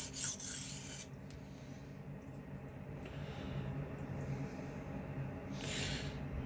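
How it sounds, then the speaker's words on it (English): A knife blade rasps against a coarse sharpening stone in steady, firm strokes, a close, dry grinding scrape that carries on evenly after a louder opening moment. "So use a really coarse stone and enough pressure to get the job done."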